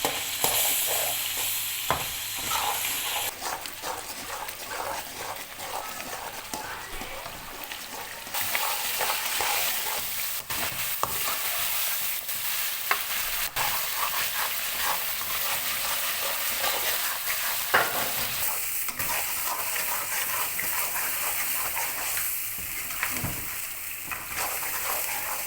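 Mutton shinwari cooking on low heat in a covered pot, a continuous hissing sizzle with occasional clicks and scrapes, steady and close throughout.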